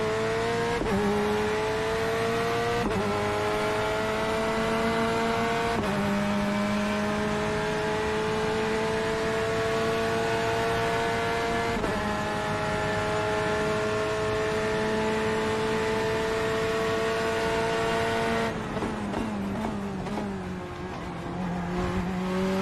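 Small race cars, among them a pink Mazda Miata, lap a track at a charity endurance event, with a steady engine drone rising through repeated gear-shift cycles, close and loud, with a brief shift in tone near the end.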